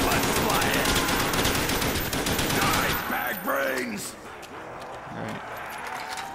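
Rapid automatic gunfire rattles in a zombie survival video game, a dense burst of loud shots for about three seconds that then gives way to quieter game noise while a player talks over it.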